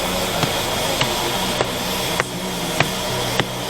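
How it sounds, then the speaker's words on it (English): Darjeeling toy train steam engine hisses with a steady loud rush of steam, punctuated by soft periodic clicks or puffs at roughly half-second intervals, heard up close. "This is also a steam engine"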